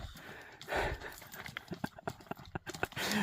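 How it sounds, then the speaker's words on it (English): Horse hooves clip-clopping on a road in an uneven rhythm, fairly close, with some background noise and rustling around them, on the Camino. "I'm going to have to yield the right away to horses."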